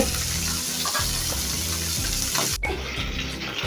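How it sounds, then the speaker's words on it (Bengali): Poa fish sizzles steadily as it fries in oil in a pan, a dense, close crackle that holds throughout with a brief sharp break near the end. "দেখেন মাছ ভাজাটা হতে আসছে"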